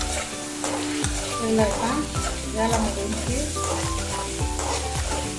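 Steady crackling sizzle of egg frying with spice paste in a hot pan, with scraping stirs and a voice speaking briefly over the cooking noise.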